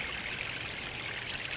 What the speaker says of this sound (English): I'm going to go ahead and give them, this one, the full amount of water